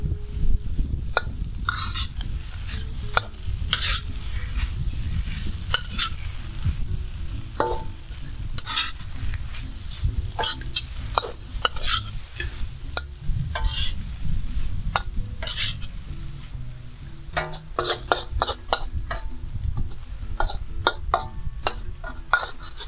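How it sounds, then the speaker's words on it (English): Instant noodles and greens are stir-fried in a pan, with a continuous low sizzle under frequent scraping and clinking of a utensil against the pan. The tossing sounds come in irregular bursts, close and moderately loud, with no talking. "Toss it around until your greens wilt."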